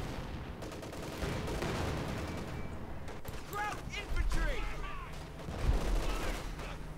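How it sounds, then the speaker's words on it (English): In Company of Heroes 2, a T-34 and a Panzer IV fight a tank battle, with scattered bursts of gunfire and heavier blasts over a busy battlefield din that swells near the end. "There's also a battle here between a T-34 and a Panzer IV."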